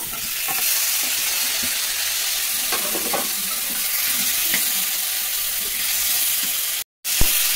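Potato, drumstick and green chilli fry in a pan as tomato goes in, giving a bright, continuous sizzle with scattered stirring clicks and scrapes, a short silent gap, then a sharp clack.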